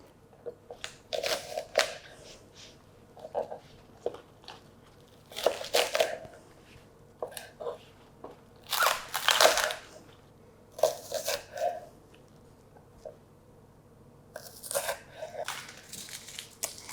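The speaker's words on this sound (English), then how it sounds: "I'm going to use about 5 to 6 pieces of spring onions and then cut them into about 1 inch length" A knife chops spring onions into inch-long pieces on a board, producing bursts of crisp, crunchy cuts in irregular clusters separated by short pauses, close and clear with no talking.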